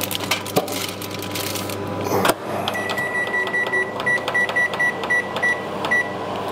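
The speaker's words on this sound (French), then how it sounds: "Et là, on le met au micro-ondes" A microwave oven hums on full power while cooking sweet potato in a freezer bag, preceded by handling clatter and door noise, then a steady drone with faint periodic clicks and a beep.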